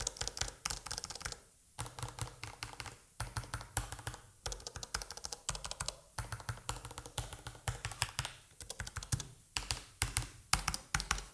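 Typing on R16 mechanical keyboards, one modded with Wind Engine switches and another with stock switches: fast, continuous clacky keystrokes in bursts with brief pauses, close and clear, no talking.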